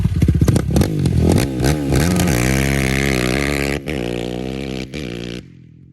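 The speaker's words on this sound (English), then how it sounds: "I ripped the YFZ today with Parker." A Yamaha YFZ ATV engine revs hard and close, sputtering and climbing to a sustained high-pitched roar with brief dips before cutting off abruptly.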